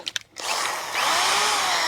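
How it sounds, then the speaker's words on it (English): An electric power drill whirs up after a few faint clicks while repairing a rotted fence post, running loud and steady with a high whine that rises slightly in pitch. "Go and get my power drill and see if it's got enough bite to run it."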